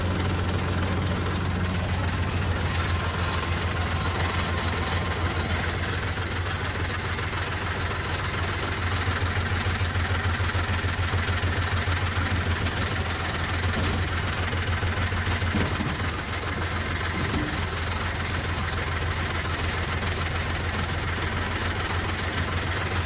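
A 2012 Mahindra 6530 tractor runs its diesel engine while working a backhoe, a steady low idling rumble that lasts throughout with no talk.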